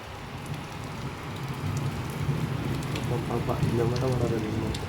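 Rain falls steadily with a soft, even hiss, and a voice briefly murmurs in the background near the end.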